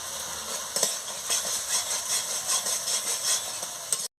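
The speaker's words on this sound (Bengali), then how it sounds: "লঙ্কার গুঁড়ো পরিমাণ মতন দিয়ে দিচ্ছি, দিয়ে ভালো করে কষিয়ে নিচ্ছি।" Chilli powder and spices being sautéed in a pan for a paneer curry, with a continuous sizzle and repeated scraping strokes of a spatula at a moderate level, ending abruptly.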